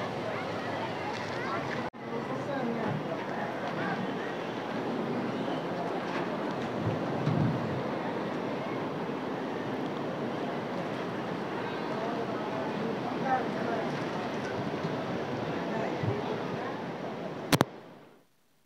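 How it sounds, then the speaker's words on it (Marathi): Broad steady rush of the wide Tapi river flowing near Kedareshwar temple, with wind buffeting the microphone and a brief click near the end. "हे तापी नदी आहे"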